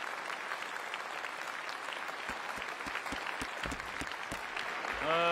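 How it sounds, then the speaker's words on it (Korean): Spectators applaud ahead of a boxing final after a referee is introduced, a steady crowd clapping heard at a distance, with a few sharper nearby claps and a rising tone at the end. "여러분 큰 박수 부탁드립니다."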